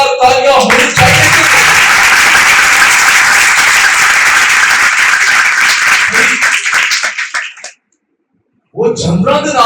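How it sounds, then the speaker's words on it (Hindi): Loud, vigorous applause from a church congregation during a Palm Sunday sermon, a dense burst of clapping sustained for several seconds before fading and stopping into a brief silence, after which a voice speaks. "हमारे रब्बूनी के लिए जोरदार तालियां होनी चाहिए।"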